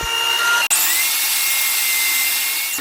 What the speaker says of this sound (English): Then I could run the 2 opposite faces through the planer and cut them down to final height.